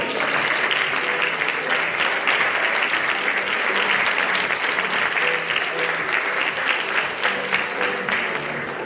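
Steady applause from a crowd fills a mountaineering federation gala as the men's podium is honoured, with dense, continuous clapping at full strength throughout.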